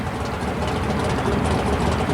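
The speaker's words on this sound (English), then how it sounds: "This is Melvin Brown's Blue Max fuel-injected Jeep CJ funny car from Ohio." Melvin Brown's Blue Max fuel-injected Jeep CJ funny car from Ohio at a super modified mud race, its engine a steady, loud, low rumble held throughout with no break.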